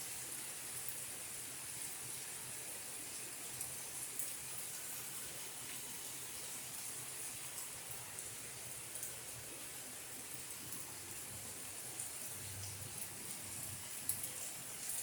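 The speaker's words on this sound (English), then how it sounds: "Yeah, it's pouring rain. I love the sound of it." Pouring rain makes a soft, even, continuous wash of hiss, faint and distant, with a few scattered louder drops and no voices.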